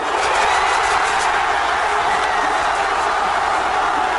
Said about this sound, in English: Tens of thousands of people here cheering and lighting flares after France's 1-0 defeat of Belgium